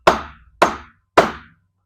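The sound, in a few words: hammer smacking Watts link bushing into place on Mazda RX7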